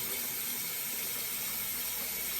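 Running water hisses steadily and close for a couple of seconds, a broad, airy rush of water as makeup brushes are cleaned.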